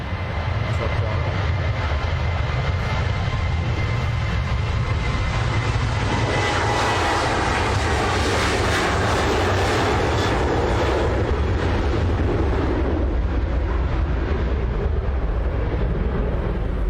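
A Boeing 767 heavy airliner departs on takeoff, its jet engines giving a loud, steady, broadband roar that stays close and powerful for the whole stretch, with no talking.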